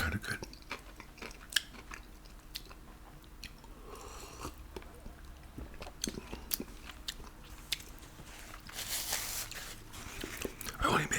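A Popeyes chicken burger with pickles and mayo is chewed close up, with soft crunching bites and wet mastication spread across the clip, and quiet whispered talk around them.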